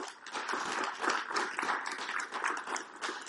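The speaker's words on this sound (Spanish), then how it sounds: "Un aplauso" A church congregation claps to welcome a first-time visitor, a soft, dense patter of many hands heard from a distance that continues evenly for a few seconds.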